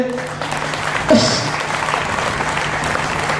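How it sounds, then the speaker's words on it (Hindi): Welcoming applause from a gathering at a Gou Katha religious discourse, steady dense clapping that fills the whole stretch at moderate loudness, with a brief voice cutting through near the start. "और तालियों से आप स्वागत करिए"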